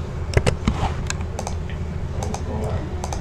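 Computer keyboard keys are tapped in quick irregular clusters while working with Ctrl shortcuts in Microsoft Word, with clicks close and clear over a steady room hum and a voice speaking between presses.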